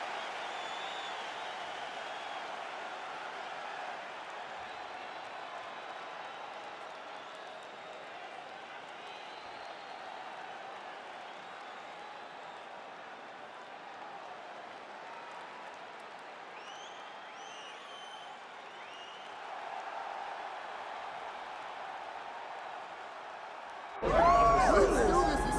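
Capacity arena crowd in EA Sports UFC 5 roars steadily throughout, a dense, continuous wash of cheering and applause that swells slightly near the end, with a commentator's voice over the top.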